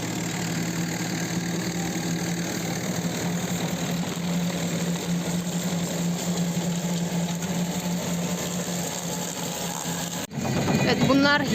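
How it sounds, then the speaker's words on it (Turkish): A tractor drives over sugar beets during the beet harvest, its engine droning steadily and fairly loud, with crunching underneath, and a brief shift in sound near the end. "Traktör geçiyor üstünden. Kütür kütür sesler geliyor."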